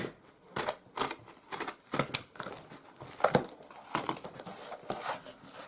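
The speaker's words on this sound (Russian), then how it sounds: "Так, коробку открываем." A cardboard box is opened up close: irregular crackling, tearing and papery crinkling bursts with sharp clicks and rustles, no voices.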